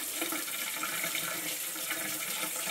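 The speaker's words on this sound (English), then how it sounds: "the hot water has been put back on." Hot water runs steadily from a tap into a sink, a continuous bright splashing hiss that holds at an even level throughout.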